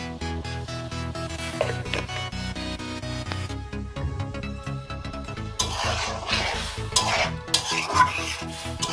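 A Bengali shrimp, potato and eggplant curry with mustard paste and a little water is stirred in a pan, with repeated scraping strokes over a gentle sizzle that grows busier and louder midway through, and no talking.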